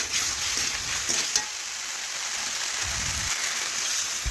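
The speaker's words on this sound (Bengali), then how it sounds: "পরিমাণ মতো জল দিয়ে দিলাম।" Curry of elephant foot yam in a pan sizzling and bubbling steadily as water is poured in, a loud continuous hiss with a brief low gurgle near the end, no voices.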